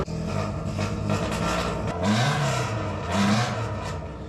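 Car engine cranking and straining to catch, its revs rising and falling in uneven surges, with an overly rich idle mixture; loud and close throughout with no talk.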